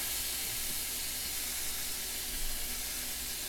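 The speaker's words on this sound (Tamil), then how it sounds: "தவா காயவும் எண்ணெய் ஊற்றிட்டு வெங்காயத்தை போட்டுக்கிறோம்" Onions frying in hot oil on a tawa give a steady, even hiss that carries on without a break, soft and moderately close, with no talking.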